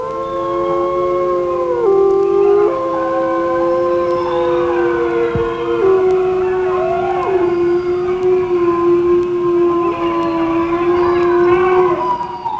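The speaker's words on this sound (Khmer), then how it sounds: "ពេលនោះសំឡេងឆ្កែលូ" An eerie dog howl rises and wavers for the whole stretch, several long mournful tones gliding and overlapping, loud and close, like a sound effect in a Khmer ghost story.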